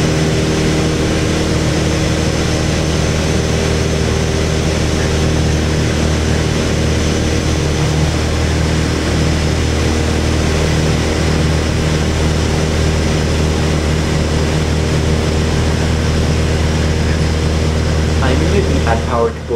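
The twin engines of a Piper Seneca drone steadily in flight, a loud, constant low hum with a propeller buzz that never changes pitch, and a voice talks over it.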